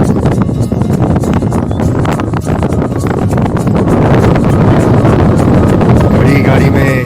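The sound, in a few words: wind blowing outside in Ladakh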